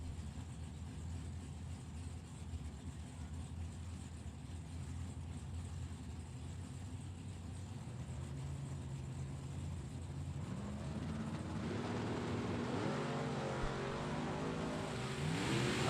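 Drag race cars, one a green Camaro, idle side by side on the strip before revving hard, engines rising into a loud growling acceleration over the last few seconds.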